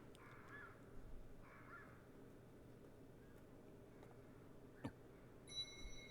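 A crow in the Black Clover anime gives two short, harsh caws close together near the start, followed by a faint ambient hush with a few small clicks and no speech.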